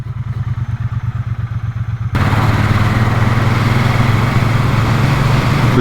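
A Triumph Bonneville T120 motorcycle engine idles close by with a rapid, even thumping pulse, then revs up abruptly into a loud, steady, sustained roar.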